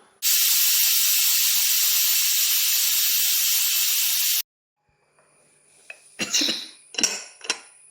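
A pressure cooker cooking jackfruit seeds releases a loud, steady hiss of escaping steam lasting about four seconds, then cuts off, followed by a few clattering knocks and bumps.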